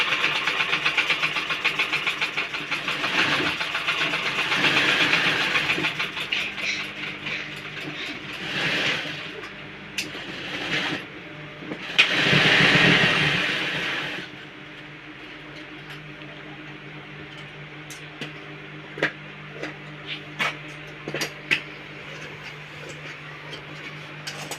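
A sewing machine runs in close-up bursts of rapid, rhythmic stitching, stopping and restarting a few times, then gives way to quieter pauses broken by scattered clicks and taps.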